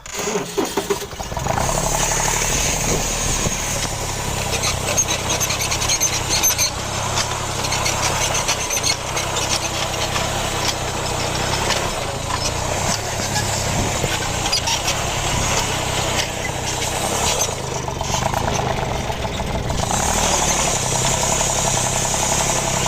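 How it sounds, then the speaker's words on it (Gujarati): A tractor engine runs in a farm field, a loud, steady mechanical drone that holds nearly unbroken for over twenty seconds, close by and with no talking. "જુઓ અમારું ટ્રેક્ટર ચાલે છે ને જુઓ."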